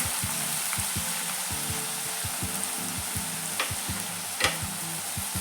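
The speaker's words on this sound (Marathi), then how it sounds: "कांद्याची पात भाजताना थोडंसं मीठ घालायचं" Spring onion greens roast in a hot pan, giving a steady bright sizzle with a regular scraping rhythm from stirring and a couple of sharper pops, close up with no voices.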